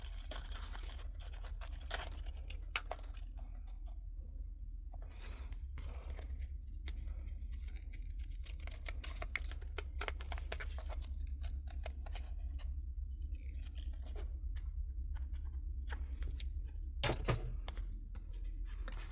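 Scissors snip steadily around the edges of paper scraps in a craft project, giving close, crisp repeated cuts and scraping paper rustles over a steady low background hum, with no talking.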